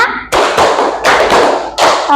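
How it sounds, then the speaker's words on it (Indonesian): A class of children claps hands together in rhythmic bursts, separated by short pauses as a teacher counts out the pattern, with loud, close, sharp slaps. "Tepuk 1, tepuk 1, tepuk 2, tepuk 3, tepuk 4"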